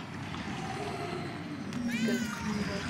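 A cat meows in the video game Murdered: Soul Suspect, a single clear drawn-out meow near the end over steady low background ambience.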